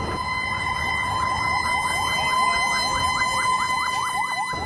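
Fire service engines responding to an airport cargo complex fire wail with a rapid, repeating siren sweep, steady and moderately distant, continuing throughout without talk.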